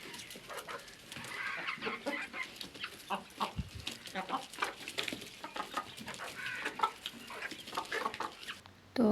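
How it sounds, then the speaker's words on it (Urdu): Hungry chickens clucking steadily at feeding time, a busy overlapping chorus of close clucks and squawks running throughout at moderate loudness. "تو ابھی آ جاتی ہے مرغیوں کی باری، ان کو بھی بھوک لگی ہوئی تھی کافی زیادہ"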